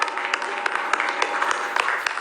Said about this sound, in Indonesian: boleh kita berikan tepuk tangan dan semangatnya?